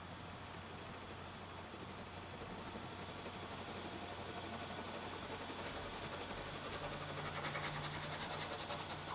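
Steady low rumble with a constant hum of a railway train running on rails, heard from inside, continuous and moderately loud throughout, in Russia.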